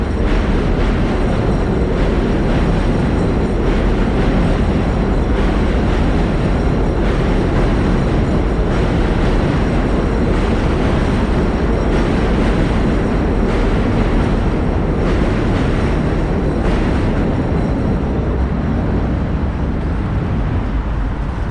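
Loud, continuous rumble of trains moving through Sunnyside Yards beneath a bridge in Long Island City, Queens, a broad steady roar that holds throughout.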